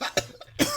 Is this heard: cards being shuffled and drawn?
no